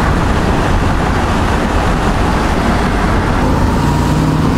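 A loud, steady rumble of a classic Z28 car with a 302 engine cruising at about 55 miles an hour, with road and wind noise blending into a constant roar.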